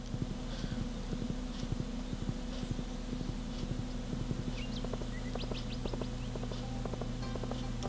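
Hooves clip-clop in steady, rapid rhythm as a horse is ridden in the Stardew Valley farming video game, with a constant background hum and occasional chirping birds throughout.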